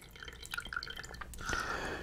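Water rinsed through a fountain pen with a bulb filler drips and trickles in quick, close, fairly quiet splashes, building to a denser run of droplets near the end.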